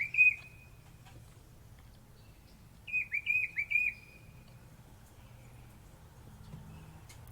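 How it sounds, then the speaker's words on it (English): Birds chirping outdoors in short whistled bursts, one call near the start and a quick run of repeated chirps a few seconds later, fairly close and clear over a low steady background hum. "So nice to have the birds back."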